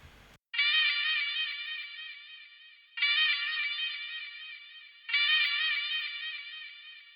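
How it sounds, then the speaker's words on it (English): Three sustained bright harmonic tones, each starting abruptly and slowly fading, with a swirling, sweeping flanger effect on the music and no voices. "it was just a flanging effect just to give it a bit more depth and color"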